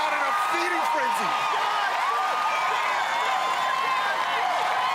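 Crowd at an American Ninja Warrior course during the Baltimore finals, cheering loudly and steadily the whole time with whoops and shouts, under an announcer's ongoing commentary.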